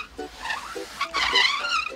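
Rubber hot water bottle rubbed across a formica tabletop to imitate a car tyre skid, heard as a short rising and falling rubbery squeal with a few brief squeaks, close and fairly loud.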